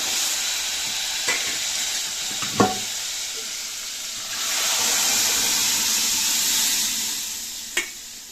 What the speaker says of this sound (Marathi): आता आपल्याला ह्याच्यामध्ये हे डाळ घालायची आहे। हे बघा, मी डाळ टाकते।